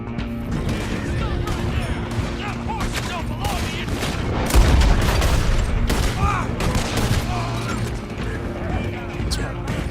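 Gunfire during a horseback gunfight in the video game Red Dead Redemption 2: repeated sharp shots crack in irregular bursts over galloping and mechanical clatter, with a heavier blast midway and voices talking throughout.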